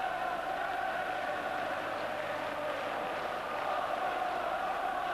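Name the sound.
Rangers fans cheering in the stadium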